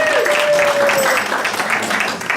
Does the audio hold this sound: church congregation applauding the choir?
yes